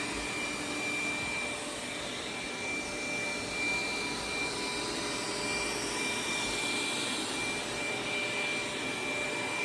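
A Dreame Z10 Pro robot vacuum runs steadily across a hard floor strewn with sand and cat litter, a constant close whirring motor drone with a faint high whine and no talking.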